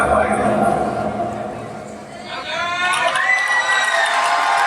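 A crowd at a JCI dance competition in Chandrapur cheers and applauds after a performance. The roar is loud and continuous, with whoops rising near the end.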